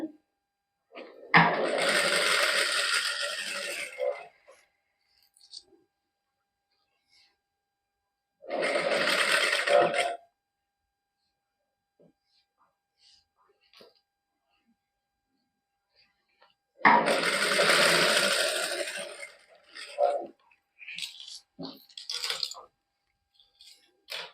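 A sewing machine stitching a boutique garment runs in three separate bursts of a few seconds each, with quiet pauses between them and a cluster of shorter bursts at the end.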